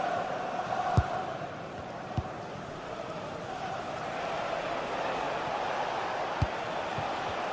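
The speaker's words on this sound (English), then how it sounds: "The crowd certainly think so. Just listen to them." Stadium crowd noise in a football video game, a steady broad roar of cheering held low and distant throughout, broken by a few sharp thumps.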